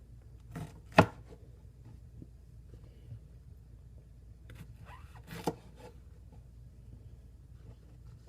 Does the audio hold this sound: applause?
no